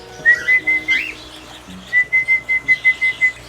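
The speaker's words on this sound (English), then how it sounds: "I make a whistle so that they will know that it's feeding time." A person gives two bursts of short, sharp, repeated whistles, a rhythmic series of pulses, to call cockatiels at feeding time. The whistling is close and clear, with quiet background and no talk.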